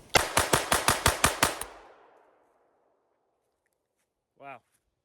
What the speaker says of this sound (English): we got the last 8 we're gonna fire out of it.